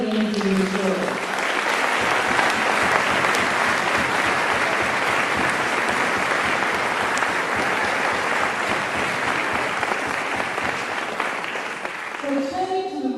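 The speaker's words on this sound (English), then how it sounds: "let's give a big round of applause for all of the energy in this world" Sustained audience applause fills a campaign launch event for a trains-not-toll-roads cause, a dense, even wash of clapping from a large crowd lasting around ten seconds, with brief voices at the start and end.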